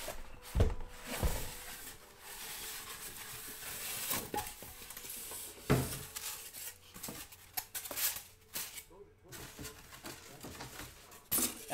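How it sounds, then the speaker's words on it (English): Squeaky styrofoam packing is handled inside a box of Panini Eminence basketball cards, giving irregular close bursts of rubbing, squeaking and rustling with short quiet gaps between them. "Styrofoam alert if your ears are sensitive to the sounds of squeaky"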